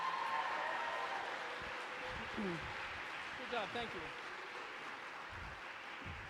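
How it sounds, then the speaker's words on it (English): Audience applause for a jazz musician at a college convocation, a steady broadband clatter of clapping across the whole stretch, with a speaker's voice heard over it. "Can we get a round of applause for him one more time?"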